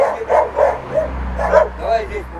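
Several dogs bark and yip in quick, uneven bursts close by, with people talking loudly over them during a heated argument at a house door.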